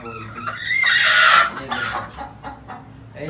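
A fancy-breed hen with weak legs clucks loudly and repeatedly up close, a rising squawky burst followed by shorter, softer clucks.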